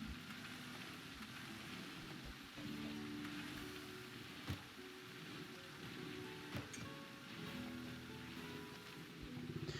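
Steady wash of psychic rain in the RimWorld video game, a dense hissing patter that runs continuously throughout with a few faint tonal game cues layered in.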